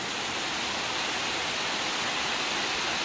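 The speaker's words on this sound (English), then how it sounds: "My goodness, is it pouring down now, man?" Heavy rain pours down steadily at a beach house construction site in the Philippines during a storm, a loud, dense, continuous hiss with no breaks.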